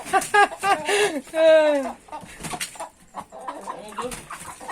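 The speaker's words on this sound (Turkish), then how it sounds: "tavuk saldırıyor orada tavuk" Chickens squabble and cluck close by in a farmyard, bursts of sharp squawking cries in the first two seconds giving way to busier mixed clucking, with people talking over them.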